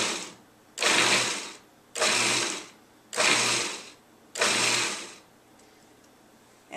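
A food processor pulses four times in even bursts, chopping kale into a coarse chop, each whirring burst lasting about a second with short pauses of quiet between, close and fairly loud with no talking.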